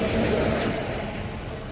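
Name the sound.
service truck driving past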